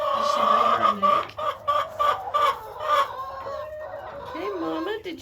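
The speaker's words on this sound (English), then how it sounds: "And this is the bigger chicken pen. These are the bigger hens." Large hens cluck in a chicken pen inside a barn during feeding, busy overlapping clucks and calls close by, with a rooster-like crow mixed in near the end.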